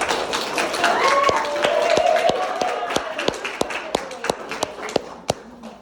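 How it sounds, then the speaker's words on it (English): A small audience claps for someone speaking about her alopecia, a loose run of distinct hand claps that thins out toward the end, with a voice talking softly beneath. "So let's give her a huge round of applause already."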